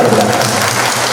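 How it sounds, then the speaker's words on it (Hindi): A crowd applauds at a Suheldev Bharatiya Samaj Party workers' training camp in Lucknow, a dense, loud wash of clapping that continues evenly throughout the brief moment. "जोरदार ताली बजाते आप लोग जोरदार ताली"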